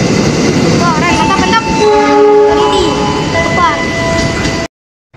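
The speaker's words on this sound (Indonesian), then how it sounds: "Melintas langsung jalur 3 kereta angkut kereta apa nih?" A train passes straight through Bandung station on track 3, loud and close, with a long sustained horn blast over its rumbling roll until the sound cuts off abruptly.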